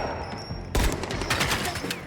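Gunfire in the video game Dying Light: The Beast: a quiet moment breaks into a loud burst of rapid automatic shots with dense, echoing cracks continuing to the end.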